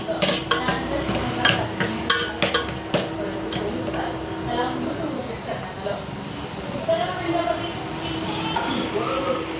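Salted mutton is sautéed in oil in a pot for a village-style curry, with clinking and scraping stirring strokes at first that give way to a soft frying hiss, all under continuous talking.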